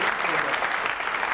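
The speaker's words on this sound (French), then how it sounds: "Applaudissements" Studio audience applause on a 1992 Belgian weekend television show, a brief dense burst of clapping at moderate loudness.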